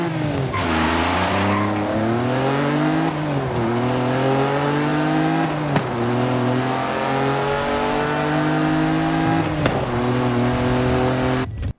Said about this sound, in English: Now let's listen to the Lancia Stratos.